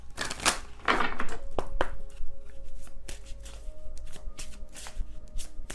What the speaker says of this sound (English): I'm using my Secret Moon Oracle deck here.